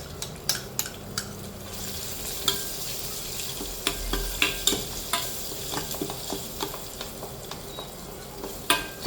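Onions sautéing in a pan, with a steady sizzle and frequent sharp scrapes and clinks from a spoon stirring against the metal, some louder knocks, no voices.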